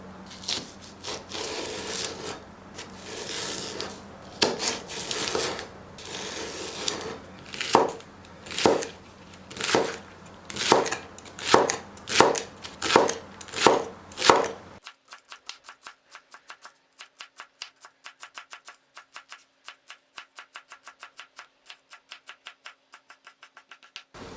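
Rapid knife chops of fresh garlic on a cutting board, first irregular then in a steady rhythm of sharp strikes, followed by a long run of quick, lighter taps.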